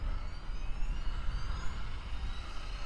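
A FW450L-V3 Fly Wing GPS RC helicopter spins up its motors, a steady broadband whirring roar with a rising high whine, fairly faint and heard without talk.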